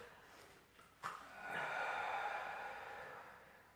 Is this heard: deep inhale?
yes